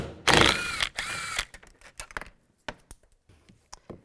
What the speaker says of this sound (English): Now take this bolt out. Use a 10 millimeter socket.